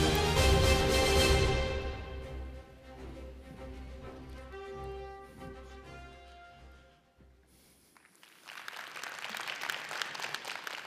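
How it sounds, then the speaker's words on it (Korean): Audience applause at a regional forum as a city mayor is welcomed to the stage, a steady wash of clapping rising over fading musical tones and building toward the end. "박수로 모시겠습니다."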